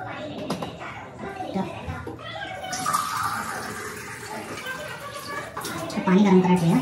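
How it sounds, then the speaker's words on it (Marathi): Water is poured into a pot for cooking dal and rice, a splashing, running stream under someone talking and a voice in a home kitchen. "थोडंसं पाणी घेऊया, 3 ग्लास सांगितल्याप्रमाणे"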